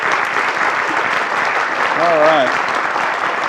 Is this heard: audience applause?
yes